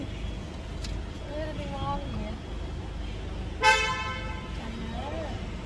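A single short car horn toot rings out over a low traffic rumble in busy Gurgaon traffic, India, with voices talking in the background before and after it.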